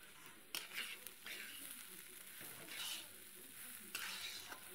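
Rice fried in ghee with sugar for basanti pulao sizzles steadily while a spoon stirs it, giving occasional sharp scrapes against the pan.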